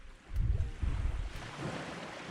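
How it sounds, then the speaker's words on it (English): Ocean water washing up at a beach campsite in Australia, a short, close surge of surf with wind rumbling over the microphone and no speech. "Hear the water."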